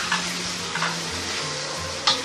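Chicken cubes seasoned with black pepper and salt sizzle steadily in a hot pan, with occasional stirring scrapes and light clinks over the constant frying hiss. No voices.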